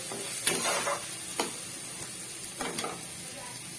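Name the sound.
frying spice masala with chili powder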